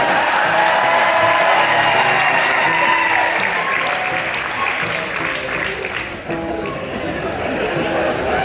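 A live concert audience on The Rock Boat music cruise applauds loudly and steadily, a dense wash of many hands clapping that fades slightly toward the end.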